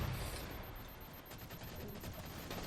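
Distant, fairly quiet volleys of automatic gunfire in a Halo match, a continuous rattle of shots during a shotgun engagement.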